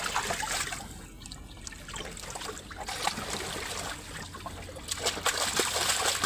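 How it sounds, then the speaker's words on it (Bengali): Water pours steadily into a small, cheap village pond, making a continuous rushing trickle that fills the whole stretch without pause. "জল ভর দাও একটু জল ভর রাখো ভালো জল দাও"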